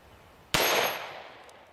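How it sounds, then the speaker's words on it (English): A single .44 Magnum handgun shot strikes a metal target: one sharp, loud crack with a metallic ring that decays over about a second, alone after a quiet lead-in. ".44 Magnum, one of the biggest handgun cartridges."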